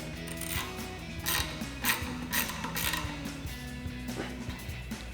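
A ratchet turning a 2.5 mm Allen socket on an extension tightens the bolts of a front bumper on a Jeep Gladiator JT, giving close, rhythmic clicking in short bursts with no talk.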